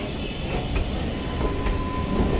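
A train passes close by with a loud, steady rumble and clatter of wheels on rails, plus faint squeals, continuing unbroken with no voices.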